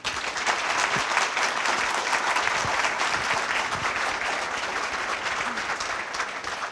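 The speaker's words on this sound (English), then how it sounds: "I would like to ask everybody here to offer a very loud applause" A large audience applauds steadily and loudly at a Kyoto University honorary doctorate award ceremony, dense sustained clapping filling the whole stretch without a break.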